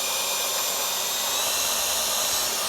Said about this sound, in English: You can hear the drill struggling.